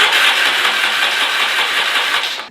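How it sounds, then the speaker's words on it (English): A Yamaha XS650 motorcycle engine is started, a loud, harsh, continuous grinding rattle from the starter and engine, close up, that holds steady for a couple of seconds and then cuts off. "I'm going to play the clip of my XS650 starting up"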